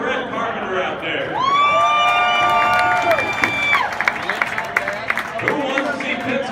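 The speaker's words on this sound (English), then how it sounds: "who's cheering for Ed Carpenter out there?" Crowd at the Indianapolis 500 Pole Day cheering and shouting for Ed Carpenter's qualifying run, a loud sustained roar of voices with whoops, sharp cheers and scattered clapping, while a public address announcer talks over it.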